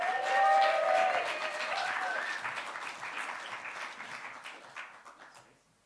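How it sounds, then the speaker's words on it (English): A large audience breaks into loud, sustained applause for a poet at a slam poetry event, the clapping swelling quickly and then tapering off gradually before dying away. "Could we give another massive round of applause, please, for Ali Al-Jamri?"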